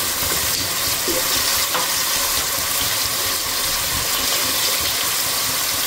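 Tomatoes fry in a pan while fenugreek dal is being cooked, giving a steady, close, even hiss and sizzle with faint crackle throughout. No one speaks.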